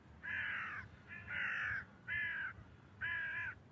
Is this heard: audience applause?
no